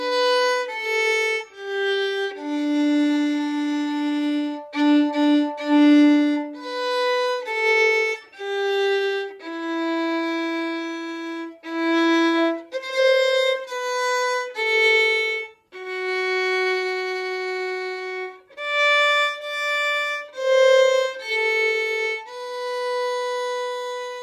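The verse of Jingle Bells played on solo violin: clear bowed notes in a steady, bouncy rhythm, near and moderately loud, with no talking.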